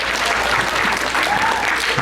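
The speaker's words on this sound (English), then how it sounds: "giving a round of applause to all of our contestants" An audience at a Poetry Out Loud recitation contest gives a sustained round of applause for the contestants, dense, even clapping filling the room throughout.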